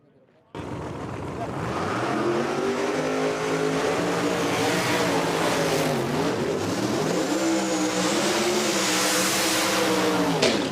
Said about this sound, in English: Kye Kelley waits for her to leave, and then he takes off